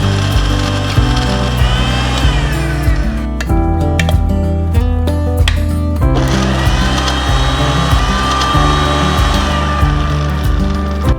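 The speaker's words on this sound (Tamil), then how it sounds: "இதை வந்து மிக்சியில் போட்டு நம்ம வந்து அரைக்க போகிறோம்" A kitchen mixer grinder blending raw mango pieces with green chillies for pickle, loud and close, its motor whirring in bursts with short pauses and restarts as the jar churns.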